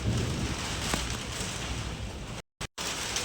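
Steady rain falls as a dense broadband hiss, loud and continuous, with a couple of brief dropouts near the end.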